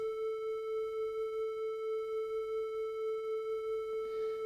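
A steady guitar tuning tone run through a Rock-Box chorus effect set to high depth, holding one sustained pitch with an occasional slight waver, quiet and alone.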